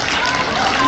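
Brief burst of children clapping together at a church children's camp sermon and puppet show, dense and fairly loud, lasting under a second.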